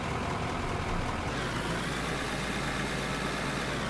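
A tractor engine at a mine runs at a steady idle, a constant low rumble with a deeper throb setting in after about a second, close and unbroken.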